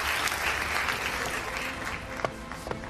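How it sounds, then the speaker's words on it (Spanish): Sustained applause from an audience at the final of El Conquistador 2021, greeting the finalists; dense, steady clapping from a sizeable crowd with a couple of sharper claps near the end. "Venga, un fuerte aplauso"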